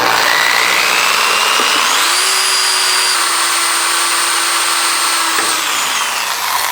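A Black & Decker Professional drill with a 15/64 bit drilling into trailer metal, a loud steady whine that climbs in pitch as the motor spins up and holds through the cut, close and continuous.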